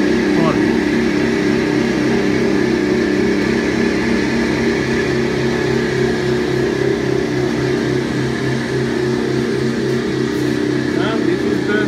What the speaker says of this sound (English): And now press this main motor power switch. Main motor of the machine will be on.